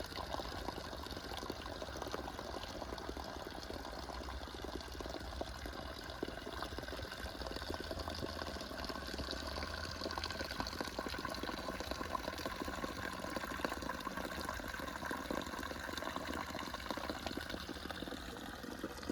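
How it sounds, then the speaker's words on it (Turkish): A flowing water stream at an abandoned spot, a continuous close rushing and trickling that stays even throughout with no voices. "Şöyle güzel akan bir suyumuz var"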